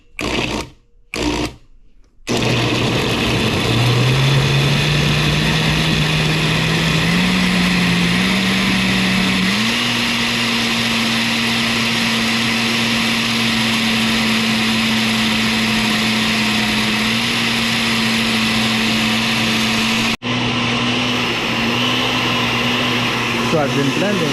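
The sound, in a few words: blender pulsing Guyanese hot pepper sauce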